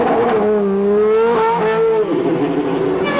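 A Ferrari sports prototype race car pulls out of the pit lane at a 2000 SRWC round, its engine loud and close, revving hard through several rising gear changes before easing off.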